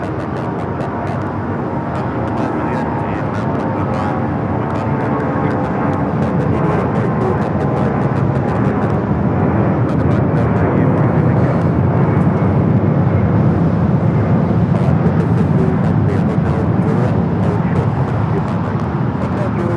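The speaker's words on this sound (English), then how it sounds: "We have a takeoff here. Delta 757-200 headed out to Phoenix." A Delta Boeing 757-200 taking off from LAX, bound for Phoenix, builds into a heavy, sustained engine roar that swells slowly over many seconds, with someone talking across it.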